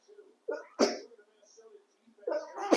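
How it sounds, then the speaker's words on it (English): A person sneezes twice in quick bursts, close and loud, with breathy intakes before each, amid a quiet indoor setting while people chat around a Halo game. "I gotta sneeze."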